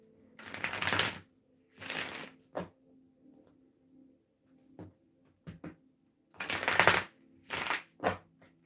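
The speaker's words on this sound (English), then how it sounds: "Just shuffle these cards." Playing cards are riffled and shuffled in several quick, crisp bursts with short quiet pauses and small taps between them.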